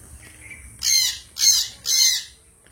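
A pet baby bird begs for food with three loud, harsh squawks, close to the listener and evenly spaced about half a second apart, with no other voices present.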